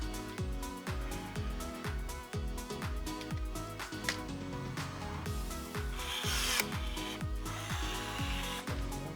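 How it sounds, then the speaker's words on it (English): Rapid bursts from a pneumatic rivet tool while riveting an aircraft rudder frame, many short repeated pops and clicks in a steady rhythm, close up, with a brief hiss of air partway through and no talking. "we clecoed the rudder frame together and started riveting it"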